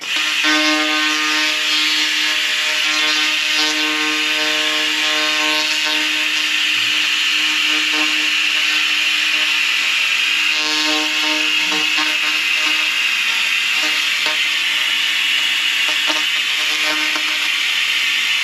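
A 2000 watt laser cleaner strips rust, paint and coatings from metal, a loud, steady high-pitched tonal whine with a buzzing hum beneath, running unbroken with faint crackling surface noise and no talk.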